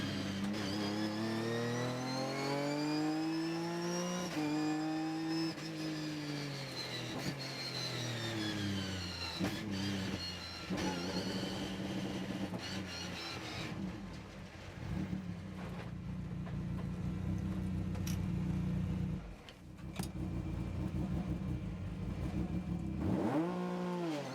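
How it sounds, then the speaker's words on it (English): A Ginetta race car engine revs hard on a circuit during a race, loud and close, with rising and falling pitch as it accelerates and shifts, then a rougher blare later on. "Nelson just loses the back end and round goes the Ginetta"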